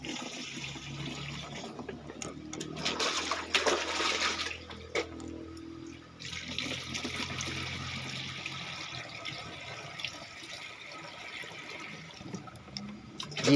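Water poured into a container while mixing a foliar hormone spray for Monthong durian trees, a splashing, filling gush outdoors with brief pauses, moderately close and without talk.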